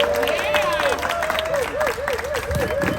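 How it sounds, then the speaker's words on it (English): A community audience in Providence applauds with dense, sustained clapping, while a warbling whistle or cheer rises and dips over the top and some voices carry through the noise. "if we could just have a round of applause for fantastic Mr. Gonzalo Cuervo"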